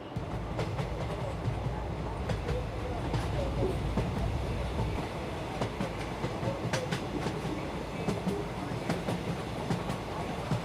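A train rumbles along the rails with a steady low roar and rhythmic clicking of wheels over track joints, heard from inside a carriage.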